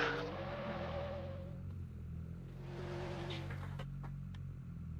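A drift car engine in a racing video game drones and revs in steady waves, its pitch rising and falling, with a few sharp clicks near the end.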